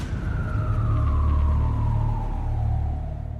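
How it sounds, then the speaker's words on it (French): An ambulance siren wails loudly and close, its tone sweeping steadily downward over a low rumbling engine. "L'ambulance est en route."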